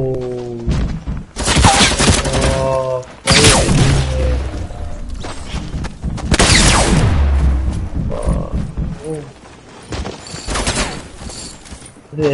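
Sustained bursts of light machine gun fire crackle in the video game Fortnite, loud and close, with long rattling volleys broken by short pauses and mechanical clatter.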